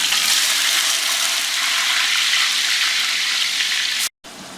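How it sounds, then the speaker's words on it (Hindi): Half a kilo of onions with whole garam masala sizzle and fry steadily in hot oil for a mutton curry, a loud, continuous hiss that cuts out abruptly near the end. "अब इसकी अच्छी बढ़िया भुनाई करेंगे जब तक कि ये सुर्ख नहीं हो जाते हैं।"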